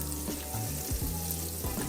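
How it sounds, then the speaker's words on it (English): Onions sauté in a pan with melted butter, giving a soft, steady sizzle and crackle close by, with a few faint clinks and scrapes of stirring. "I thought we were just like sauteing some onions"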